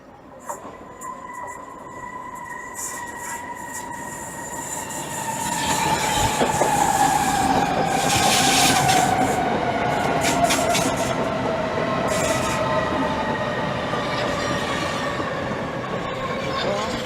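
A Southeastern Class 395 electric train rolls into Gillingham station steadily, its motor hum and rumble building, with faint wheel squeal and clicking over the rails, loud and close.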